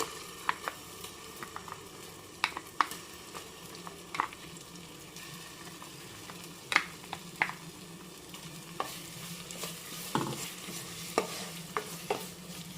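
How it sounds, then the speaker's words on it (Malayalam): Ground masala being stirred into frying pepper chicken in a pan, with a steady low sizzle and scattered sharp scrapes and clinks of the spoon against the pan, no voices. "മസാല ചേർത്തു നല്ലതുപോലെ ഇളക്കി കൊടുക്കുന്നുണ്ട്."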